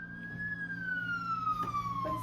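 A fire truck siren wails steadily and slowly falls in pitch, fairly distant, over low traffic rumble, with no talking.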